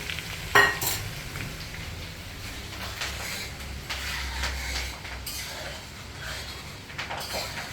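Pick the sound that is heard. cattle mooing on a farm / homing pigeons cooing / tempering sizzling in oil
tempering sizzling in oil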